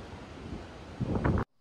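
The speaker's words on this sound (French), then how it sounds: "C'est très venteux" Strong wind at sea on deck of the Costa Smeralda cruise ship, a continuous buffeting roar against the microphone that swells into a louder gust before cutting off abruptly.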